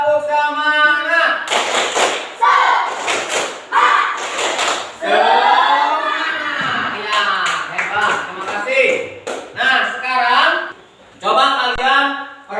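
Students in a classroom perform the tepuk semangat cheer clap, repeated sharp clap bursts between loud chanting and a teacher's voice.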